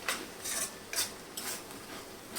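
A spoon stirs dry brinjal and potato curry with ground peanuts in a pan, giving several soft scraping swishes in an irregular rhythm, close and fairly quiet.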